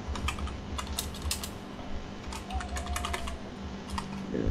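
Quick bursts of keystrokes on a computer keyboard as a password is entered, close and crisp, with short pauses between clusters of taps and no talking.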